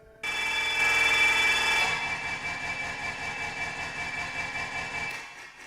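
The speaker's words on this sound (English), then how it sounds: "We're gonna add this like little construction sound." A stretched construction sound effect used in music production: a dense, buzzing harmonic drone that shifts partway through into a steady pulsing, mechanical throb, sustained and fairly loud before cutting off.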